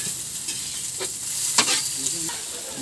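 Cabbage sauteing in a pan for pancit bukid, with a continuous loud sizzle and repeated clattering strokes of a spatula stirring through it, close up.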